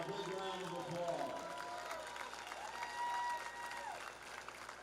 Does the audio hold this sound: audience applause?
yes